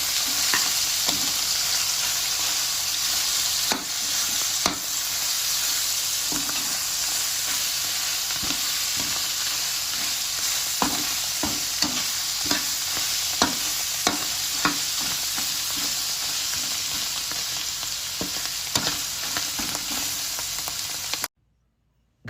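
Adobong sitaw with tofu fries in a pan with a constant close sizzle and hiss. Scattered clicks and scrapes of a utensil stirring break through before a sudden stop, with no talking.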